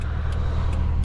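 A 1970s Holden HQ DeVille V8 cruises along with a steady, low engine rumble and road noise, close and continuous, with faint ticking above it.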